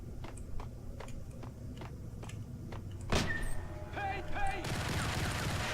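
Enemy gunfire in the Max Payne video game, a run of rapid shots crackling through a mansion showdown, with sharper bursts and game effects layered in toward the end.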